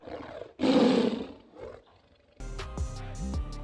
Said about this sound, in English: It's a saber-toothed tiger.